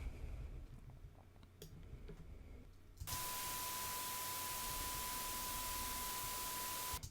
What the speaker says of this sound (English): So instantly you can hear there's a lot of hiss. That hiss is the dither.